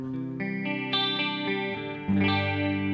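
A clean electric guitar plays through a Line 6 Helix Jazz Chorus amp model and a 2x12 open-back Celestion V30 cabinet with light delay and reverb, picking a few ringing single notes that end in a fuller chord.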